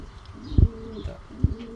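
Low, throaty coos of a racing pigeon, two clear bursts separated by a pause, close by with faint background hum.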